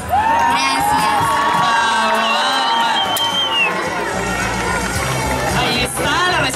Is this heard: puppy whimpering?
no